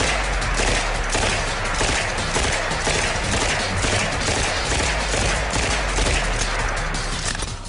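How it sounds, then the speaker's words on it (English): Uzi submachine gun fired in full-auto bursts, a steady dense rattle of rapid shots running loud and close throughout with no talking. "let's try a little trigger time with the Uzi"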